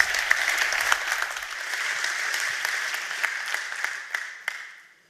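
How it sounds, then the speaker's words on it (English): Audience applause at a deep tech innovation forum pitch session, welcoming speaker Jean-François to the stage. Dense, steady clapping from a crowd fills the whole stretch, then fades out near the end. "So big applause for Jean-François"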